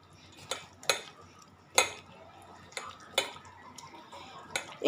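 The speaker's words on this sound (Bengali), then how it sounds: "এইভাবে আমি ভালো করে চটকে নিয়েছি" Egg mashed together with chopped onion, ginger and garlic in a bowl, giving a run of sharp, close clinks and knocks at an uneven rhythm, about eight in all, over faint background and no talk.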